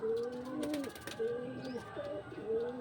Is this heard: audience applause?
no